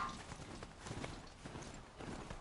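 Horse hooves clip-clop in a video game, a steady walking rhythm of soft, repeated hoofbeats that sounds close and moderately quiet, with no talk over it.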